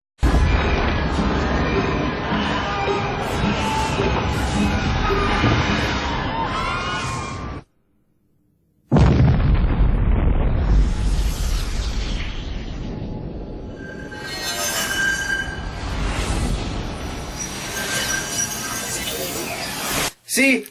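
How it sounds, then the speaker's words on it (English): Planet Krypton crumbling and exploding in a Superman film, heard as a loud, dense cinematic roar of rumbling destruction and screams, broken by a short silence before a second sustained wave of chaotic noise. "The people of Krypton begin to panic as the world crumbles around them and explodes"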